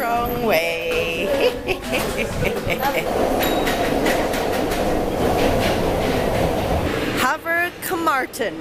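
A subway train rumbles steadily along its rails in New York City, with rolling clatter and brief squeals; voices come in at the start and again near the end.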